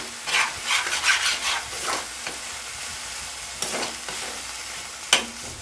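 A banana curry seasoned with turmeric cooks in a pan, with a spoon scraping and stirring in several quick bursts over a soft background sizzle and hiss.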